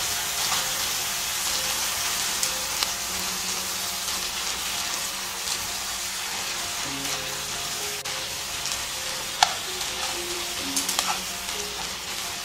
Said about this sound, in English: We'll saute this in the white wine.